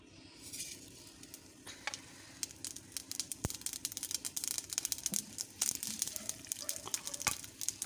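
Urad dal sizzling in hot oil for a tempering, close crackling pops and sharp spits over a low sizzle, growing busier toward the end, with no talking.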